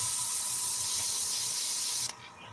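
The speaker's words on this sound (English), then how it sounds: "I hear you spraying." Steady, loud hiss of a compressed-air spray gun in a workshop during a livestreamed evening build, running continuously for about two seconds before cutting off abruptly, leaving quieter room noise.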